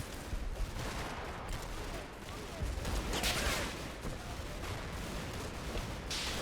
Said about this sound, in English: Now with rifles. And some of the least accurate machine gun fire in history.